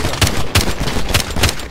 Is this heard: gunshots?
yes